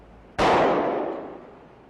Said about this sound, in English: By shooting this jacketed hollow point bullet into a block of ballistic gelatin, we can show how the bullet expands